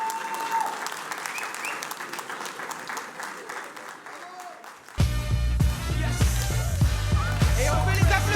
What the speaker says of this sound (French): Et on peut les applaudir encore bien fort.